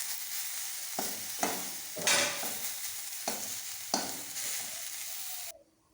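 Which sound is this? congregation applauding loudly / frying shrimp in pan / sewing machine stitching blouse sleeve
frying shrimp in pan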